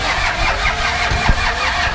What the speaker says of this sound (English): That's not an original Oldsmobile engine. Those are diesels, mostly imported out of Russian Ladas.